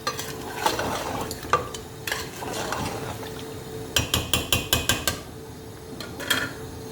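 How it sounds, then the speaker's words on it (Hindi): Masala for paya is stirred and fried until the oil separates, a spoon scraping and clanking against the pot in a quick run of repeated strokes over a gentle sizzle. "आप देख सकते हैं मसाला तेल छोड़ रहा है।"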